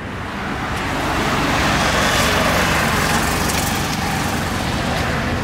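A new tractor being driven gives off a continuous, fairly loud engine roar with a broad rushing texture. It swells slightly and then holds steady throughout, with no talking over it.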